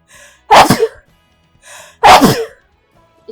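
Two loud, close sneezes about a second and a half apart, each with a short breathy intake before the explosive burst, then quiet.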